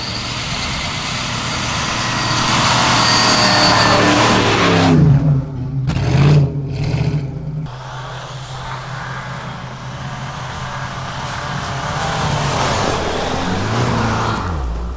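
A new Jeep Grand Cherokee engine rumbles and revs up close as the SUV labors over rough off-road ground, the drone rising and dipping with a brief strained surge midway.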